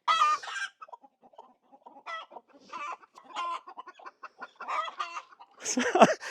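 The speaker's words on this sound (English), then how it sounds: "We're going to head to the chicken coop while we just check that." Chickens in a coop cluck repeatedly in short bursts at close range, with a louder, squawking call at the end.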